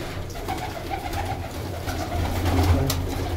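Sialkoti and golden pigeons cooing in a loft, soft low repeated coos from several birds close by over a steady background hum, with a few sharper clicks and flutters.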